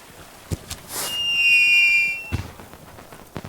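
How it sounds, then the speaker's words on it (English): Fireworks going off during a Midsummer Festival in the video game LOTRO: a few sharp pops and cracks, then a rising whistling shriek that lasts about a second before bursting into more scattered crackles, heard alone. "somebody's shooting off some fireworks"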